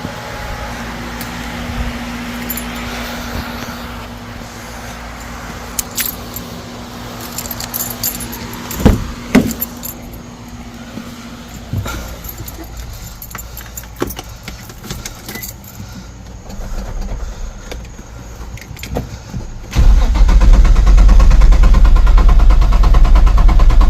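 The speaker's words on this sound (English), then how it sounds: "And then turn the motor over just to get some oil pressure." Nissan G35/350Z V6 engine cranked over with the key to build oil pressure, a busy mechanical clatter with scattered metallic clicks and jingles that jumps to a loud, steady low rumble near the end.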